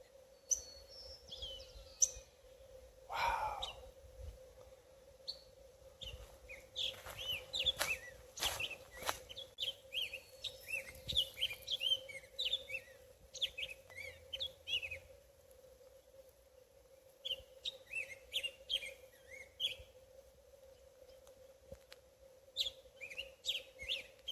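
An eagle calls from tall trees along a forested Gulf Coast shoreline in British Columbia, sending out repeated high, thin chirping phrases in irregular bursts. The calls sound moderately distant over a faint steady hum, with no talking.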